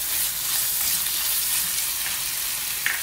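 Chili powder being stirred into sizzling masala for a turkey curry in a pan, a steady close frying hiss with faint scraping of the stir throughout.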